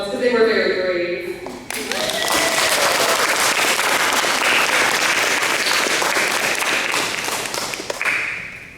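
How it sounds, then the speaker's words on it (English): An audience at a school board meeting breaks into loud, dense applause after a brief stretch of speech. The clapping holds steady for several seconds, then cuts off. "They definitely deserve a nice round of applause because they were very brave."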